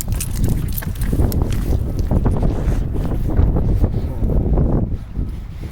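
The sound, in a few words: wind outdoors before a snowstorm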